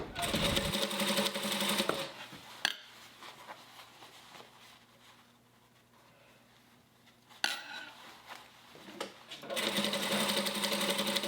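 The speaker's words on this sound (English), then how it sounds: "stitch along the top edge until your bunched fabric will not allow you to stitch any further" A sewing machine stitches the top edge of a Christmas stocking in fast whirring bursts at the start and end, with a quieter pause and a couple of sharp clicks in between.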